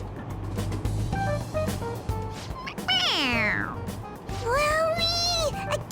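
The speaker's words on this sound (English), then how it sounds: "It meows when you press on its head." Toy cat in Persona 5 Royal meowing when pressed on its head, two clear drawn-out electronic meows in succession over busy game music and background sound.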